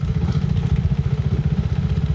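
A KTM 390 Enduro R motorcycle engine putters at a steady, fast, low rhythm, loud and close, with no voices.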